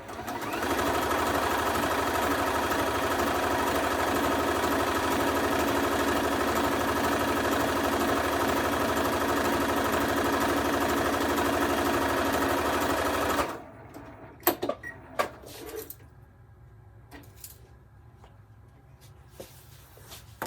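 A sewing machine runs a long, steady stitching burst on quilt fabric, its rapid needle hum going on for about thirteen seconds before stopping, followed by a few quiet clicks and fabric handling.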